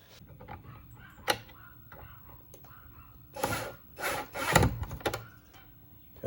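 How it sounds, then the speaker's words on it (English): Metal washers for a kayak crate rod holder being ground down so a bolt fits through, giving a series of rough, rasping scrapes that cluster into several louder bursts near the end, close up with soft background noise. "I'm just grinding that a little bit so that the bolt can go through here."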